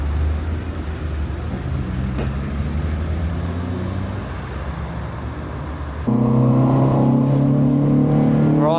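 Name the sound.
Renault Clio 182 driving out of the pits at Thruxton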